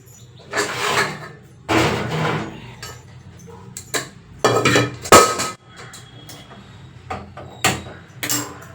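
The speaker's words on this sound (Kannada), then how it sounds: "ಕುಕ್ಕರ್ ಕೆಳಗಡೆ ಬಿದ್ದೋಯ್ತು" Loud metallic clatters ring out in a home kitchen as a pressure cooker drops to the floor. Several separate crashing bursts land a second or so apart, with a sharp bang near the middle and quieter rattles after it.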